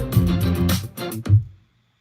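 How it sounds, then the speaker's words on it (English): Layered sampled string sections play sustained chords alongside guitar, a short loud phrase with a couple of accented swells that stops abruptly and fades to silence. "Now, if I go and I add in those other sets of strings, it sounds like this."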